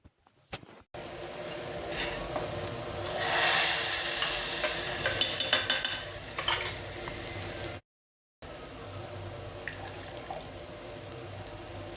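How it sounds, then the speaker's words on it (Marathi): A loud sizzle as hot tempering hits cooked moong dal, rising into steady crackling and bubbling with stirring, then a brief silence before quieter simmering continues. "मी आता ही फोडणी ना लगेच गरम गरम आहे ना तर डाळीमध्ये ॲड करून देते"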